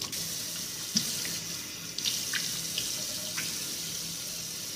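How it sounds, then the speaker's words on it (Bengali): Water from a tap runs steadily into a sink during face washing, a close, even rush with a few soft splashes and clicks on top. "চলো এবার মুখটা ভালো করে আমি জল দিয়ে ধুয়ে নিই।"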